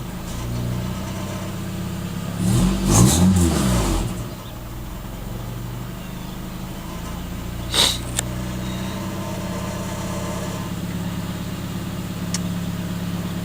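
A CB7 car engine fitted with a full Megan Racing header, downpipe and exhaust idles steadily after a cold start on fresh spark plugs, with one brief rev swelling early on before it settles back to a smooth, close idle.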